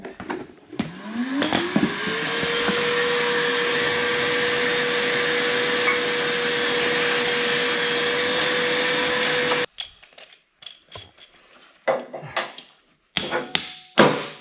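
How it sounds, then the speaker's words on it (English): A vacuum cleaner spins up and roars steadily for several seconds vacuuming concrete drilling debris during a car lift installation, then cuts off, followed by scattered knocks and rattles of debris being handled. "All right, I'll vacuum that up"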